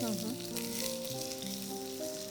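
Chopped garlic and ginger frying in white oil in a pan for a Manchurian made from banana peels, a dense, bright sizzle heard close up and continuing steadily with no one talking.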